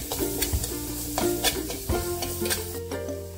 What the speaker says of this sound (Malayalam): ഇതെല്ലാം കൂടി നല്ലോണം വഴറ്റാം.